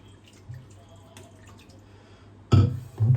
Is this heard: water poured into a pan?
yes